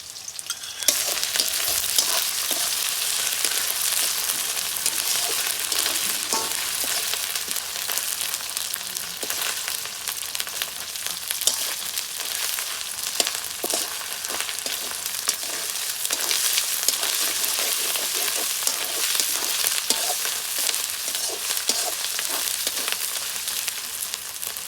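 Ginger paste and desi chicken frying in a pan, a steady loud sizzle running throughout with occasional clatter of stirring, no voices.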